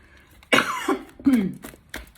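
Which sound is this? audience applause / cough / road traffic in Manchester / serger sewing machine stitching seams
cough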